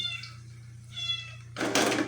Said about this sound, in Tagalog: Kawawa naman tong isang pusa. Hinahanap niya isang kasama niya.